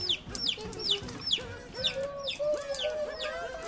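A hen with her chicks clucks in short, repeated bursts, mixed with high chick peeps, close and clear.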